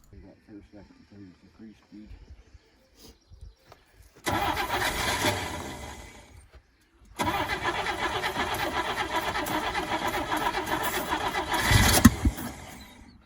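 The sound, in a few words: 1962 Rambler car engine cranking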